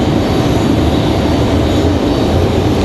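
A jet airliner arriving at Raleigh-Durham International Airport gives a steady loud roar of engine noise, broad and unbroken throughout.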